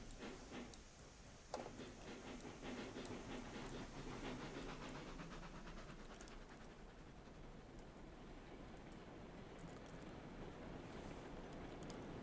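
Steam locomotives in the Railroads Online game start up as the reverser is flipped and regulator opened: a faint, continuous hiss and low chuffing rumble, with a sharp knock early on and no talk.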